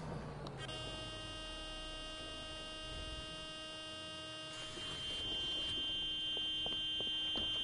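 A bus horn in a bus simulator video game sounds as a steady, harsh electronic buzzing tone like a smoke alarm, sustained for several seconds and then continuing less strongly, with no talking.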